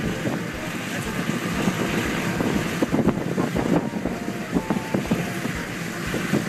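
Propellers of a B-24 heavy bomber turn at high idle, a steady, dense, rumbling drone with a rough, windy texture that holds evenly throughout.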